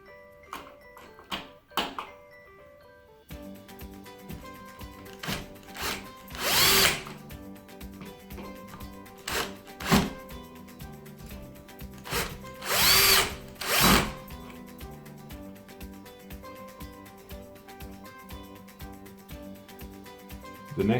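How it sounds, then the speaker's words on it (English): Power drill tightening M3 30 mm screws while installing a Roth Lange light switch, with short whirring bursts repeated several times between pauses, set against a steady background hum. "So we'll go ahead and tighten those screws now."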